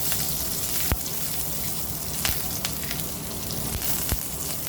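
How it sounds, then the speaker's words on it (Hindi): Cumin seeds and curry leaves fry in a spoonful of hot oil, a dense, continuous crackling sizzle close by, broken by a few sharp pops and spits; no voices. "करी पत्ता अच्छे से तरतर होने लगेगा तो हल्दी डालेंगे"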